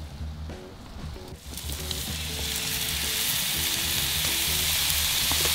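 Tomatoes hit a hot pan and a loud sizzle swells up and holds steady, rising from a quieter opening with some clatter and rhythmic background music underneath.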